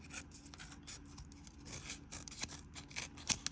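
Scissors cut open a Shakapacks card pack, with close, crisp snips and crinkling of the foil wrapper in quick, irregular bursts and no talking.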